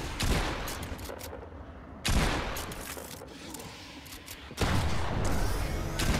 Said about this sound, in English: there's a bot shooting at me